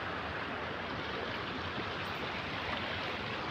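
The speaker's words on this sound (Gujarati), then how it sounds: "આ પુલના કટિંગ ઉપરથી પાણી જાય" Floodwater from a short heavy rain pours over the edge of a bridge in a steady, dense rushing roar that holds constant throughout, with no voices.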